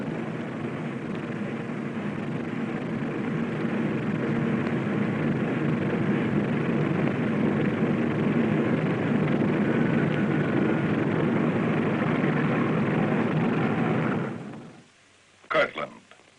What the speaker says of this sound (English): The bomber ready, it moves off to wait its takeoff time under double guard.